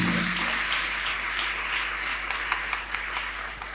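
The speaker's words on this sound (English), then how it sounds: "Can you please clap that hand for Jesus?" Congregation in a Nigerian church service applauding and clapping, a continuous wash of applause with a few sharper individual claps standing out toward the end, some faint voices beneath.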